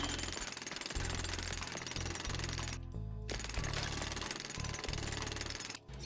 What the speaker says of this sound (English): Increase the damage of the jackhammer.